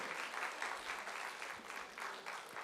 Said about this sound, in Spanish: Podemos darle un aplauso al Señor por